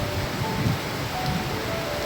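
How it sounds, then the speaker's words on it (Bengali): Heavy evening rain pours steadily in a broadband, unbroken hiss with a low rumble beneath, constant and close throughout. "জোরে বৃষ্টি হচ্ছে, দেখতে পাচ্ছ তো?"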